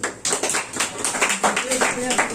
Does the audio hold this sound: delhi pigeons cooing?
no